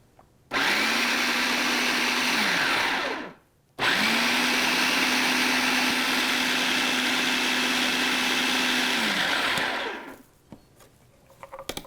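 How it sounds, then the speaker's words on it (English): An electric blender pulses a cumin mixture in two loud bursts, a short one then a longer run, its motor whirring steadily with brief silence between, no talk. "I like to pulse it"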